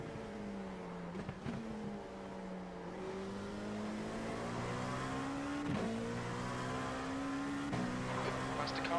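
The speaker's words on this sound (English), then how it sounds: "Faster cars approaching." Faster-class race cars, including a GTP prototype, approach and pass in a racing video game, engine whines sliding up and down in pitch as they close in, with a couple of sharp passing sweeps over the player's steady motor.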